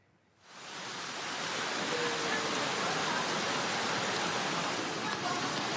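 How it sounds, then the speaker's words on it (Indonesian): Heavy rain pouring down in Cimanggis, Depok, West Java, rising after a brief quiet start into a dense, steady, loud wash of noise that holds for the rest of the clip. "diguyur hujan deras selama 2 jam"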